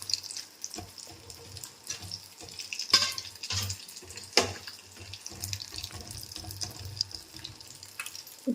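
Water runs and splashes in irregular bursts into a cooking pot of fish curry, close up, with clinks and kitchen clatter mixed in.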